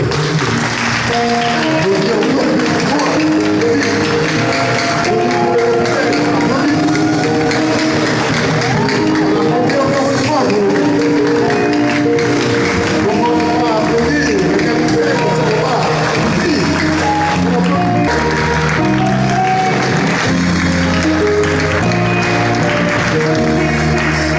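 Sustained applause from a large crowd at a choir rehearsal, continuous and loud throughout, with some cheering and shouting mixed in.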